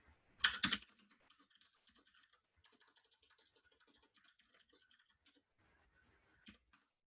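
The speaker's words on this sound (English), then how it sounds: "I'm typing horribly." A sharp burst of keystrokes, then a quiet, steady patter of typing on a computer keyboard, with a few louder clicks near the end.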